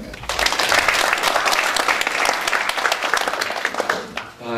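Big, dense applause from the audience at a Korean policy forum on the National Pension Fund's settlement in Jeollabuk-do, welcoming a co-hosting lawmaker. It swells quickly and holds loud and steady for several seconds before tapering off.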